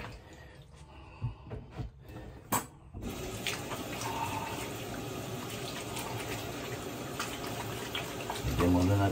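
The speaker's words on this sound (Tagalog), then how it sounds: "Lagyan muna natin ang tubig." Tap water runs into a basin set up for soaking vintage items: a few clunks and handling knocks first, then a steady splashing stream, with muffled talk underneath.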